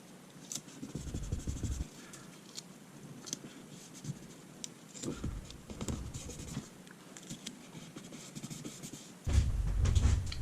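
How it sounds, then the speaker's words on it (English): A pen traces a pattern over graphite paper laid on a pyrography workpiece, giving soft intermittent scratchy strokes with brief pauses, faint and close. "You basically trace it now that the graphite paper is in place"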